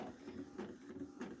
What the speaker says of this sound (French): le bruit de l'impression